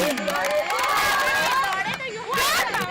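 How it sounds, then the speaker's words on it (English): A cricket stadium crowd in a women's match roars and shouts excitedly after a brilliant run-out, a continuous wash of many overlapping voices rising and falling. "Look at the crowd. They've gone crazy."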